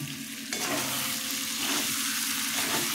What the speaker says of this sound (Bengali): আলুগুলো কষানো হয়ে গেছে